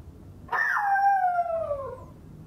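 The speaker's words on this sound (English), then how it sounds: "It's my only issue with dogs, they bark." A dog howls once in a long, loud, falling wail heard alone against a quiet nighttime background, with no barking evident.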